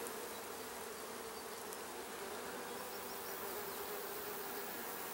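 A steady, close buzz of many light-colored, fuzzy bees swarms around a small nuc hive, the droning hum continuous and unbroken throughout.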